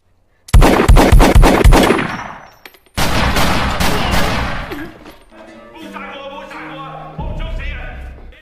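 A rapid burst of pistol gunfire rattles loudly for about two seconds, followed by a dense, noisy stretch and then softer tonal sounds.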